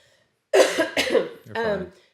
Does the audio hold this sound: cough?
yes